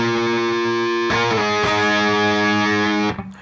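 A distorted electric guitar plays a riff, a sustained buzzing chord struck again twice with sharp attacks, loud and close, then cut off at the end with no talking.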